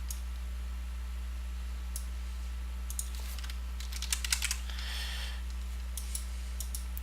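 Someone types on a computer keyboard in a quiet room, with scattered light key clicks and a quick cluster of taps near the middle, all faint over a steady electrical hum.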